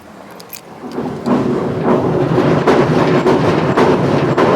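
A train rolls across a railway bridge seen from underneath, a rumbling roar that builds after a quieter start and then stays loud and steady, with rhythmic clatter of wheels on the track.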